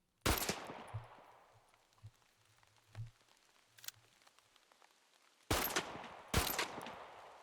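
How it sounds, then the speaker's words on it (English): Gunfire in the video game Ferocious: a short burst of shots at the start, scattered quieter pops, then two loud bursts near the end, all fairly faint overall with no talk. "I'm gonna reload if you're wondering why I'm wasting all my ammo"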